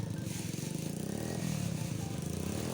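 Misfiring Ruzi 110 motorcycle engine running at a steady idle close by, a continuous low rhythmic putter with a rattly edge and no revving.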